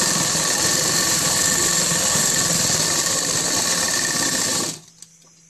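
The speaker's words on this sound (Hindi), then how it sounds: "इसे डबल सिलाई लगा ली।" A sewing machine runs a double line of stitching on palazzo pants, a loud, fast, steady whir that stops abruptly near the end, followed by a single faint click.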